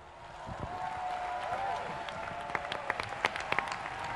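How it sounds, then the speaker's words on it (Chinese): Church congregation at a graduation service bursts into steady applause that swells and stays full for several seconds, with a voice faintly audible beneath the clapping. "再一次的热烈掌声。"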